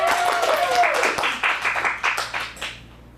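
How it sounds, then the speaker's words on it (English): An audience at a youth improv showcase gives the interpreter a brief round of applause, a handful of fading claps after a spoken line, close and thinning out toward the end. "Let's get a round of applause for the interpreter."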